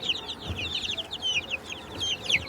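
Black and white naked neck chickens cluck in a rapid, overlapping chatter from several birds, close and steady throughout, with faint low thumps beneath and no talking.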